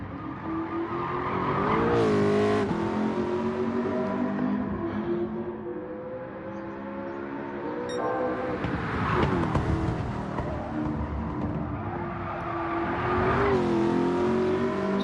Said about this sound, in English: there is your car in all of its glory, running full tilt boogie